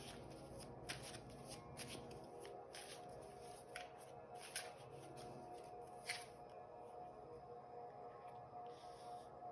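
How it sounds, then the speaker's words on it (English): Osho Tarot Oracle cards are shuffled by hand in a quiet room, a soft continuous riffle and slide of card stock broken by a few crisp snaps, close and gentle. "I'm going to pull a couple of Osho Tarot Oracle cards here as well to get the party started"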